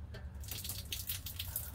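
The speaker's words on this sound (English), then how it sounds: "I hear water" Water runs steadily inside an RV during a slide-room bearing pad repair, a soft continuous splashing trickle heard close and fairly faint.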